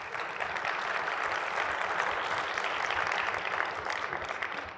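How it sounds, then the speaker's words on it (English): Seated audience at a marine aquarist education talk applauds a group of current and former students, even sustained clapping heard from a distance and fairly quiet throughout. "if y'all could just give them a round of applause"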